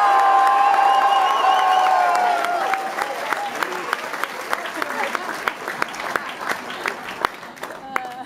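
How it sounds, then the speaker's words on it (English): Concert crowd cheering and whooping for a bagpiper, with loud shouts and high voices at first that settle into sustained applause and scattered sharp claps, all fairly close and dense. "give him a cheer."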